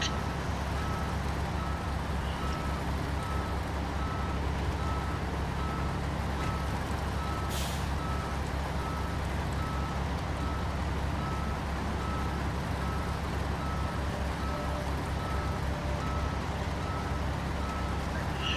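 A Zikz 566A truck in a video game backs up with a steady engine drone, while a regular reversing beep repeats under it throughout, plus one brief hiss of an air brake.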